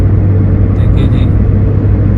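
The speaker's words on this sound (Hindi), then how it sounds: "लगातार गाड़ी नीचे जा रही है।" Steady low rumble of a car engine heard from inside a vehicle descending a mountain road near Al Amerat, Muscat, Oman, continuous and fairly loud throughout with no break.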